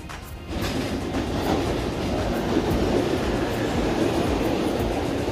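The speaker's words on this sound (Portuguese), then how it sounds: "O trenzão chegou, pessoal," A CPTM Line 11 commuter train pulls into a station platform on the route toward Mogi das Cruzes, with a loud, continuous rumble and rhythmic clickety-clack of wheels over rail joints, close by, without speech.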